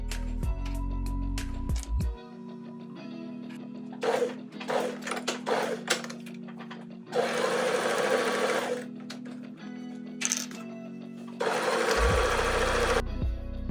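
A sewing machine stitches a seam on a custom-fitted dress shirt in several loud, steady bursts separated by short pauses, with mechanical clicks and handling sounds between runs.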